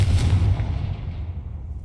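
Fiery blast from the Confringo explosive spell in Hogwarts Legacy, a heavy booming burst at the start that rumbles low and decays over a couple of seconds, with no voices.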